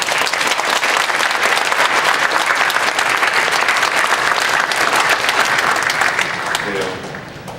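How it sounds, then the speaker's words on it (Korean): A church congregation breaks into loud, sustained applause that fills the sanctuary with thick, continuous clapping, holding strong for several seconds before tapering off near the end. "우리 모두 같이 영광의 박수를 하나님께 올려드리기 바랍니다"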